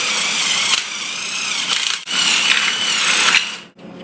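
A power drill fitted with a 3/8 clearance bit bores a hole for a handrail zip bolt, a loud close whine that dips briefly twice before cutting off.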